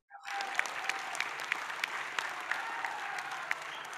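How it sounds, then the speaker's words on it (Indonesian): Crowd applause at a Partai Demokrat provincial board inauguration in Aceh, continuous fairly distant clapping with a few sharper individual claps standing out, starting abruptly and carrying on without speech. "Tepuk tangan untuk semuanya."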